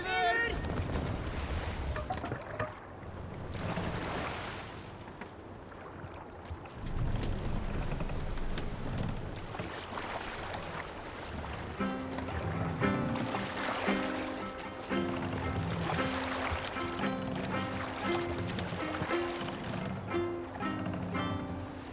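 A sailing ship moves across open water in Assassin's Creed Valhalla, with steady wind and water rush throughout and a voice calling out over it partway through.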